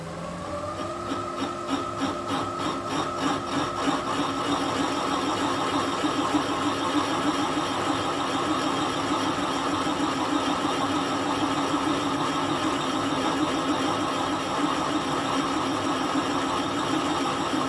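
A Kasto EBS 400 power hacksaw under rebuild runs steadily, a continuous mechanical hum with a fast repetitive reciprocating chatter that settles into a constant drone, close and loud throughout.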